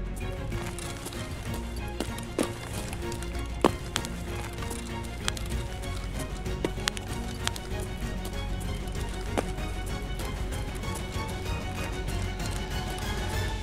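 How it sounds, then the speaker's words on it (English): Footsteps on metal in Escape from Tarkov, a string of irregular hard clacks and knocks, some sharp and nearer, others faint, over a busy low rumble with no talking. "I heard someone step on metal."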